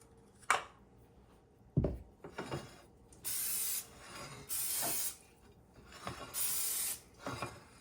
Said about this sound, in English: So I'm just gonna use this spray.